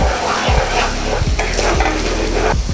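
Cumin, Kashmiri chilli powder and red chilli powder frying in oil for a fish biryani, a loud, close, continuous sizzle with rhythmic scraping strokes of a spatula stirring the spices.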